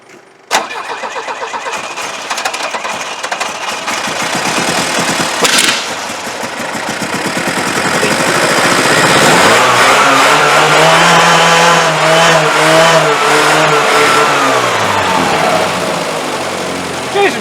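A 1985 Iltis engine cranks, catches and starts, then runs and revs up loudly with rising and falling pitch, close by and sustained.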